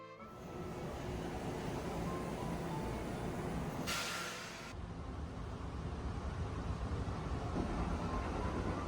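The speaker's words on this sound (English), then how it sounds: "traveling in Japan's double-decker private cruise train RAKU Express." Steady interior rumble of the RAKU Express double-decker private cruise train running in Japan, a constant rolling drone with a brief hiss partway through, no talk.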